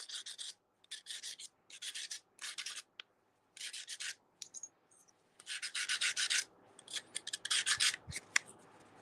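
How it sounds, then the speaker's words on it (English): Rhythmic rasping strokes of sandpaper on wood edges, short bursts with brief pauses, close and fairly quiet, speeding up toward the end. "I'm just sanding the edges right now."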